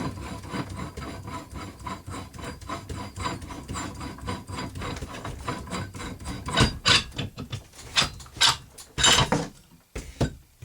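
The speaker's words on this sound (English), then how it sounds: "We'll take this suppressor off." A suppressor being unscrewed from the threaded heavy barrel of a Remington 700 rifle in .22-250: close, gritty metallic rubbing and scraping turns, growing louder and more broken toward the end, with no talking.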